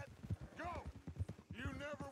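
A horse gallops in the video game Red Dead Redemption 2, its rhythmic hoofbeats running steadily beneath someone talking excitedly throughout.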